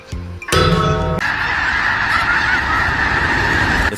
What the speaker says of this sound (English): The sky is momentarily blotted out as thousands of birds take flight in a stunning synchronized display.